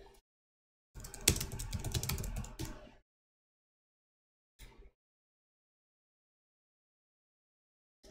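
Keys clatter on a Razer keypad in a quick burst of about two seconds, followed by a couple of isolated faint taps in an otherwise silent room.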